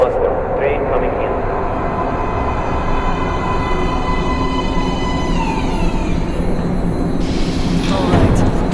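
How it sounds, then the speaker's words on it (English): A subway train pulls into a station in the video game Metro Last Light, a steady loud rumble with rising metallic whine and squeal as it arrives, under game dialogue. "Train coming in."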